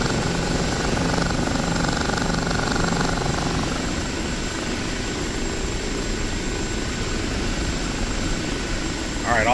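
An OH-58D Kiowa helicopter in DCS World comes in to land at an air base, its rotor and turbine making a constant loud, close drone that eases slightly in pitch partway through, with a brief tonal beep at the very end.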